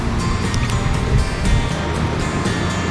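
Continuous broadband rushing water from a waterfall with wide segmented cascades, a churning, splashing texture, steady and loud throughout.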